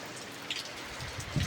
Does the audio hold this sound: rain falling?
yes